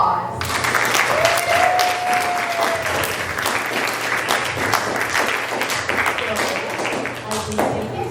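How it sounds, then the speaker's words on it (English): Sustained audience applause after a high school play, dense overlapping claps filling the room at steady loudness for the whole stretch, with a faint voice murmuring underneath. "Let's all give them a round of applause."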